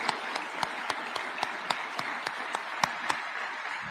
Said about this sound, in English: Can we clap for Rose